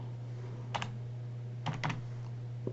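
Keys tapped on a computer keyboard while entering a Tether (USDT) amount in a crypto wallet app: a few soft, quiet clusters of clicks over a steady low hum, no talking.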